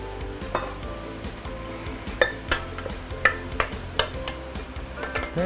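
Rice vermicelli (beehoon) being stirred and tossed in a hot wok for Singapore-style fried beehoon, with a spatula repeatedly clinking and scraping the metal over a soft background sizzle, the sharp knocks growing more frequent toward the end.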